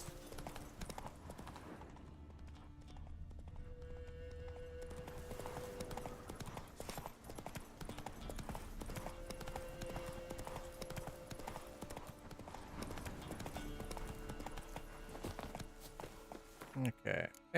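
Hooves of the horse Roach in The Witcher 3, a steady clip-clop of a horse moving over ground with game music tones underneath and someone talking over it.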